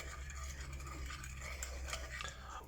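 Ingredients are stirred with white wine in a pan, a soft scraping and swishing of a utensil against the pan, quiet and continuous.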